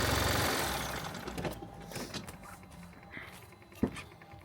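A BMW Mini F55 with a 1.5 diesel engine pops and splutters irregularly on a cold start, with uneven low knocking and one sharp pop near the end, fairly faint and without talk.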